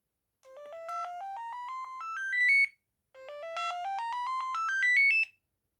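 An Amstrad S288 'Billionaire' slim mobile phone plays its switch-on tone: two loud, close melodic jingles of quick beeping notes that climb in pitch, separated by a short gap, with no talking.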